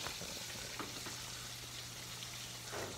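Whole crappie fish frying in a pan of hot oil, a steady close sizzle and crackle with a low hum underneath and a few small pops, continuing without talk for about three seconds.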